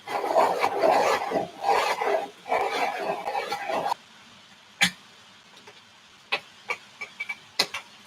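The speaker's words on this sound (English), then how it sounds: "And Jean, this is my favorite sharpener." A pencil grinds in a Swordfish sharpener in rough, rasping bursts for about four seconds, followed by scattered light clicks and taps as it is handled nearby.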